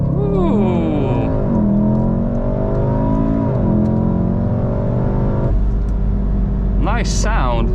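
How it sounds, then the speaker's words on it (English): A 2014-2019 VW Golf 7 R with stability control switched off launches at full throttle, the engine rising hard through several quick upshifts, loud and close from inside the cabin, with a brief voice near the end. "let's turn the ESC all completely off, foot on the brake, and I guess Mash the throttle."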